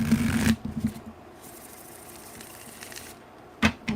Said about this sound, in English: I just like shuffling this deck.